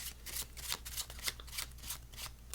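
Rapid papery riffling of playing cards being overhand shuffled by hand, a steady run of soft clustered slaps with no talking.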